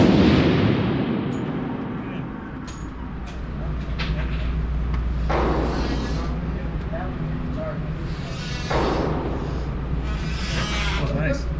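A rifle fires during scope zeroing at an outdoor range, a loud sharp report with a long rolling decay, followed by further heavy booms while people talk nearby.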